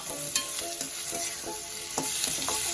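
Onions and tomatoes sauté in a pan for a curd fried chicken dish, giving a steady soft sizzle broken by repeated scrapes and stirs of a spoon, close and moderately quiet, with no talking.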